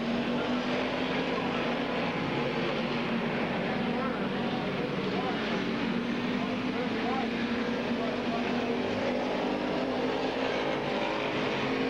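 Race cars circle Midvale Speedway in a steady, continuous engine drone that holds at the same level throughout, with a commentator talking over it.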